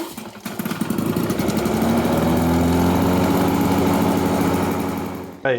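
A Lawn-Boy two-stroke lawn mower fires up after a brief start and settles into a loud, steady, high-revving buzz close by, running continuously before cutting off abruptly at the end.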